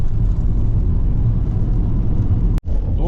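A car driving over a rough rural road in Chernihiv Oblast, Ukraine, heard as a steady low rumble of engine and tyres from inside the vehicle, with one brief dropout near the end.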